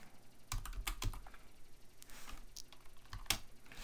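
Computer keyboard typing in quick irregular bursts of close, crisp key clicks with short pauses between them, no voices.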